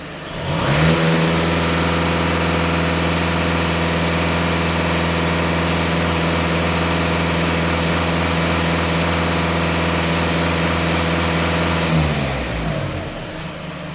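A Volkswagen Passat B8 engine idles steadily at close range, a constant low hum with a smooth mechanical drone and no revving, running evenly for over ten seconds before fading slightly at the end.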